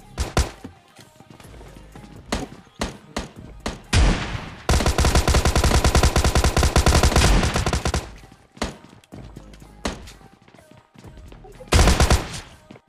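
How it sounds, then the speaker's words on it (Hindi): Shotgun blasts and gunfire in PUBG Mobile Lite: scattered single loud shots, then a dense sustained volley of rapid fire for several seconds, followed by more isolated bangs, close and prominent. "मेरे को मिली ये शॉटगन, जिससे कि एक बंदे को बजा दिया गया"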